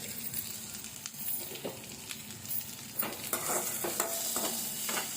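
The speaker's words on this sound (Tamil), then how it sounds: "எல்லாத்தையும் போட்டு நல்லா வதக்க விடணும்" Onions and other ingredients sautéing in a pan with a little salt, a steady low sizzle broken by several sharp scraping stirs of a spoon against the pan, close and moderately loud, with no voices.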